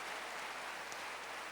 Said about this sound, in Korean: 하나님께 박수 치라